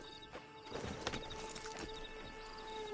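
A horse in Red Dead Redemption 2 Online clops along with a few irregular hoof thuds over a faint, steady tonal background hum.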